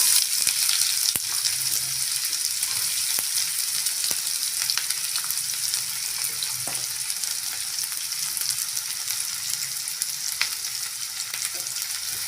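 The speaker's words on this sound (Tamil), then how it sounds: "நல்லா வதக்கி விட்டுக்கலாம் வெங்காயம் நல்லா ப்ரௌன் கலரில் வதங்கட்டும்" Chopped onions fry in hot oil with cinnamon, cloves and cumin, giving a steady, dense sizzle throughout with scattered crackles and occasional light stirring clicks, close and continuous with no voices.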